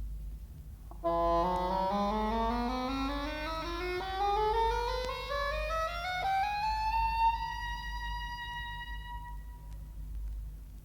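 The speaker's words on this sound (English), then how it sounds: "The oboe has a larger brother in the cor anglais." A solo cor anglais (English horn) melody, mellow and reedy, rising through sustained notes in a slow phrase, played alone with a low hum beneath.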